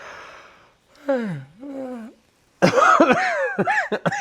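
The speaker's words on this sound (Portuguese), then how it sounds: "Agora esse bocejo vai ficar" A person yawns, with a long breathy rising and falling vocal stretch, close and fairly loud, followed by a burst of laughter and voiced exhalations.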